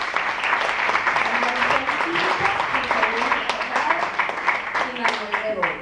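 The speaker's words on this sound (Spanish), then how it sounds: "les pido un gran aplauso" Audience applause at a Spanish-language presentation event honoring a woman and two men, steady dense clapping filling the room at close range for the whole stretch, with voices faintly mixed in beneath it.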